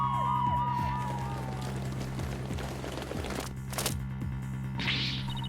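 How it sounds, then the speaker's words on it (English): Police car sirens in the Apollo Justice video game wail in a repeating rising and falling pattern, moderately loud over a steady hum, with a few sharp knocks near the end. "There are police cars outside."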